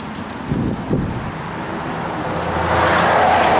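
A 1974 Dodge Challenger with Flowmaster exhaust idles and rumbles nearby, a low steady engine drone that swells slightly louder toward the end, with some wind noise on the microphone.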